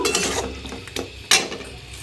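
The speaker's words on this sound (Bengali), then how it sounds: "এখন আমি এই মশলাতে আলু দিয়ে আবার একটু কষিয়ে নিব" Potatoes are stirred and sautéed in spice masala in a pan for a tilapia fish curry, with a few close, short scraping strokes of a utensil against the pan and faint sizzling underneath.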